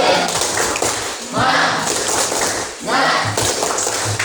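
A class chanting and clapping the 'tepuk semangat' routine in a vocational school classroom: rhythmic bursts of group claps and taps mixed with lively voices, close and loud throughout.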